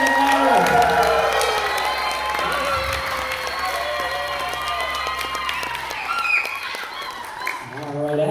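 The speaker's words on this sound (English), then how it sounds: "And give them a big round of applause." Audience applause and cheering at a stage hypnosis comedy show in a theater, a broad crowd roar with whoops and clapping that holds steady, under scattered voices and tonal calls, then thins out near the end.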